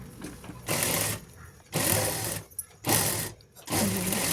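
Sewing machine stitching fabric in four short bursts of about half a second each, separated by brief pauses.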